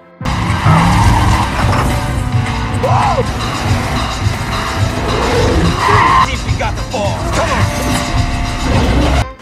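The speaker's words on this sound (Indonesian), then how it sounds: "Saat balapan dilakukan, Roman berhasil dikalahkan di balapan pertama." Street race scene from the 2003 film 2 Fast 2 Furious, with loud roaring car engines and repeated squealing, skidding tires filling the whole stretch, dense and close, with some voices mixed underneath.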